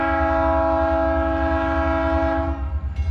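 Freight train hauling railroad ties and rock over twenty cars sounds a loud, sustained multi-tone horn close by for over two seconds, with rumbling wheels underneath; the horn cuts off near the end.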